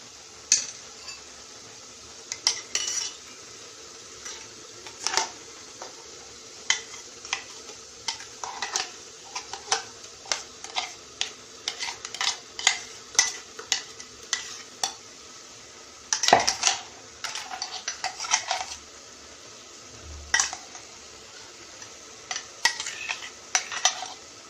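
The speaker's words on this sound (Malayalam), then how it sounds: "ഇനി നമുക്ക് ഇതിലേക്ക് അരച്ചു വെച്ചിരിക്കുന്ന തേങ്ങയുടെ അരപ്പ് ചേർക്കാം." A spoon scraping and clinking in a pan as ground coconut paste is stirred into Kerala sadya-style beetroot pachadi, with repeated close, sharp scrapes in irregular bursts over a quiet background and no talking.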